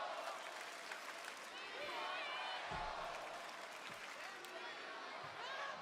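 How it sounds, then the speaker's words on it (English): A loud wrestling crowd in an arena in Savannah roars steadily, with cheering and scattered shouts making a continuous wash of noise. "Loud crowd here in Savannah."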